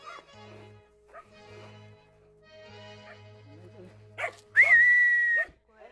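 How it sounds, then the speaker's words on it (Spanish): Dogs bark and whimper close by, short yips and a few barks followed by a loud, drawn-out high whine, with a steady low hum underneath. "Los perritos."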